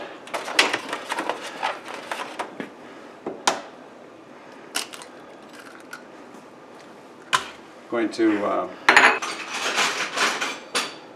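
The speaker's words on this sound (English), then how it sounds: "We're whisking these eggs up" Eggs being whisked in a bowl in a home kitchen, quick irregular clinks and taps of the whisk against the bowl in short bursts, with talking between them.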